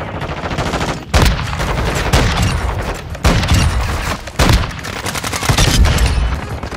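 Sniper rifle gunfire in Call of Duty Modern Warfare 2, loud sharp shots cracking out about every second amid dense game action and booms, close and punchy.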